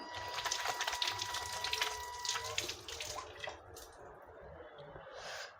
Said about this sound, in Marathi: सो मी धुवून घेते कढीपत्ता